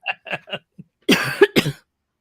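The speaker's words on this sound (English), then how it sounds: "you can't cough on me from this" A few soft murmured sounds, then two harsh, close coughs in quick succession.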